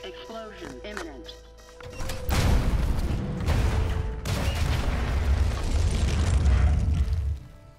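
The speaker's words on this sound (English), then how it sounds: "Explosion imminent." Explosion in The Martian VR video game, a sudden heavy boom followed by several seconds of rumbling, crackling blast noise and debris, loud and close after a brief quieter electronic lead-in.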